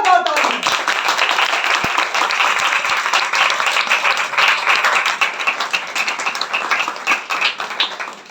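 Audience applause at a religious talk, dense steady clapping from many hands filling the whole stretch, loud and continuous with a few sharper taps near the start.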